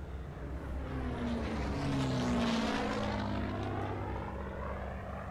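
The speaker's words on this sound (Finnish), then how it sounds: "täällä on kyllä aika lähellä kone." Propeller aircraft from the Hell Let Loose battlefield passing close overhead, its droning engine swelling loud and steady with a shifting pitch across the pass, with no talk over it.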